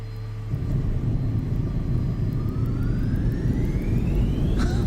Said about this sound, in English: Listen to this reverser spool up.